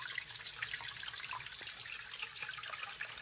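Water pours steadily into a sump pit from an inflow pipe, with a Liberty Pumps SJ10 water-powered sump pump working to keep up; a continuous, close hiss of flowing water with no talk.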